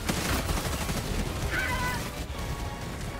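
Rapid gunfire crackles in the video game Helldivers 2, with dense overlapping shots and a brief whining tone partway through, all at a steady moderate level.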